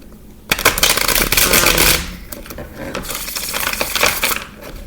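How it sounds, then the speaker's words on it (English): A deck of tarot cards being shuffled by hand, with a quiet start giving way to bursts of dense riffling and papery flutter, then a second stretch of softer shuffling, close up and alone. "So I'm going to shuffle one more time."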